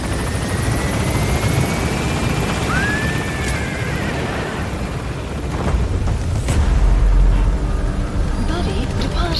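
A helicopter lifting off in the video game Metal Gear Solid V: a loud, continuous rotor and engine roar, with a rising whine partway through and a heavy low rumble swelling near the end.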